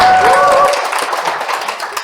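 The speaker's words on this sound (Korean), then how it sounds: "박수 한 번, 예." Audience clapping at a Korean network-marketing business presentation, a short burst of applause that swells briefly and then thins out over about two seconds, with a brief voice at the start.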